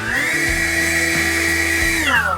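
A SENIX 60V brushless cordless battery leaf blower runs with a steady high whine and airy rush, its pitch holding level before dropping as it winds down near the end.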